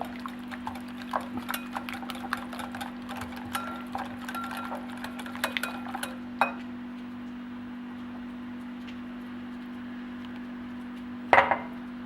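Eggs are beaten one at a time into cake batter in a bowl: a steady low hum carries scattered light clinks and taps, which thin out to quiet before a sharp clack near the end.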